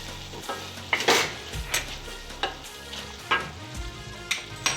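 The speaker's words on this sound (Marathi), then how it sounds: "त्यावर आता आपण एक चमचा गुळ असा थोडा बारीक करून घेतला आहे तो टाकू तोही मिक्स करून घेऊ" A spoon stirs a traditional mixed Bhogi vegetable curry in a pan after crushed jaggery is added, scraping in repeated strokes about once a second over a low, steady sizzle, close and with no voices.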